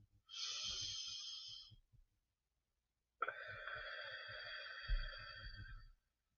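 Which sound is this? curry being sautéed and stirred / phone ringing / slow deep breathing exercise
slow deep breathing exercise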